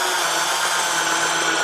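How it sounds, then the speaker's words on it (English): A power drill driving 3-inch screws into a 2x4 fixed to the bottom of a wooden blank, heard as a loud, steady, high-pitched whirring grind that holds close and continuous throughout. "I'm attaching a 2x4 to the bottom of the blank with some 3-inch screws."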